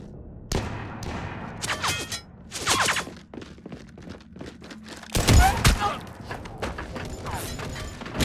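Gunfire in the sci-fi shooter Mass Effect 3 during a shuttle rescue: loud bursts and rapid volleys of shots with mechanical clanks and thuds, a heavy blast near the middle, with voices occasionally heard.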